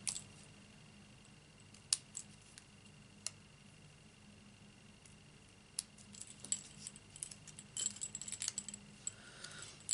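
Scissors cutting paper for a stamped card craft, faint sparse clicks and snips near the microphone, growing into a quick cluster of cuts toward the end over quiet room tone.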